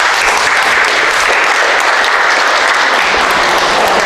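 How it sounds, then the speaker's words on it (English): Audience applause at a community history presentation about Alaska cannery workers: dense, loud, steady clapping from a crowd sustained for about four seconds. "one more applause for Jay Paular."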